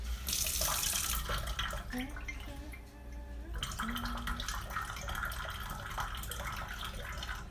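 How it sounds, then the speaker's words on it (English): Water running from a tap to fill a balloon through a syringe funnel for a jello heart craft, a steady close splashing rush that briefly eases midway before resuming, with no talking. "we're filling it up with water"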